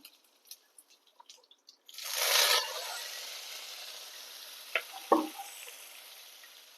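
Curry leaves hit a pan of hot oil and mustard seeds with a sudden loud sizzling burst after a few light pops, then a steady hiss that slowly fades, with a couple of sharp crackles near the end.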